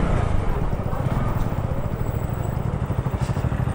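A Superlight 125 motorcycle rides past close by, its engine a steady loud rumbling drone with rapid pulsing throughout, no talk over it.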